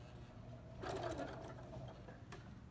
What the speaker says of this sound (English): I'm going to sew until my needle hits on this side here, and then I'll turn the quilt